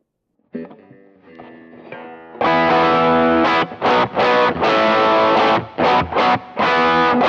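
Distorted electric guitar through a Keeley D&M Drive pedal on its Klon side, treble set high: a quiet clean-ish lick, then loud, bright, reedy overdriven chords strummed in bursts with short gaps, close and without talking.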